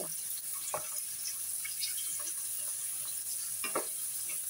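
Prawn crackers fry in hot oil with a steady, bright hiss, broken by a few bubbling crackles and light stirring clicks close by.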